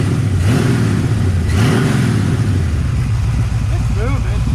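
A 455-swapped Oldsmobile Cutlass engine runs loud and close, with a couple of throttle blips rising and falling over a steady rumble. A person talks briefly near the end.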